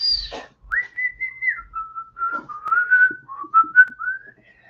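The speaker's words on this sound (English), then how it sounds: "If I can't have music, I can whistle." A person whistles a short, wavering tune while painting, clear and close, with sliding notes and brief pauses between phrases, no talking.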